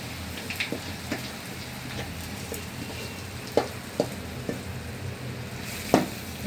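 Mustard seeds and cumin tempering in hot oil in a wok give a steady low crackling sizzle, with a few sharp louder pops scattered through and no voices.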